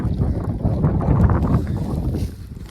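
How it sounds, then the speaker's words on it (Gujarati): Strong desert wind in Jaisalmer, Rajasthan, buffeting the microphone beside a parked car at a roadside, a steady loud rushing roar with no talking. "પણ તો હજુ પવન તો આવે જ છે"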